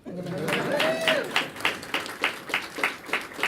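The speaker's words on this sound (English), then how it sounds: "So with that, you could clap for that." A voice speaks briefly at a mayor's press conference, then an audience claps in a sparse, rhythmic pattern of separate claps, steady and moderately near.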